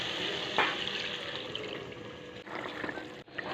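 Water is poured into a pan of simmering rui fish and potol curry after the spices have released their oil, giving a steady wash of liquid sound with a faint sizzle underneath.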